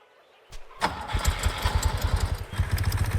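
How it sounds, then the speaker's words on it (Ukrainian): In the Farmers Life video game, a motorcycle engine cranks and catches, then settles into a steady, throbbing idle with a quick, regular pulse. "Боже, мотоцикл ще й дріфтує трошечки."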